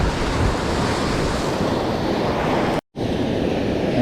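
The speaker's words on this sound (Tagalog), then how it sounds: "Ayan guys, oh, malakas ang alon." Strong ocean waves and surf at sea, a loud continuous wash of breaking water with wind buffeting the microphone, briefly cut off by a short dropout.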